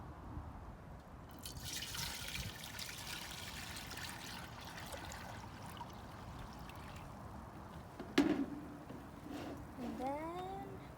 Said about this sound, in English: gonna pour some of this in until it gets filled to the top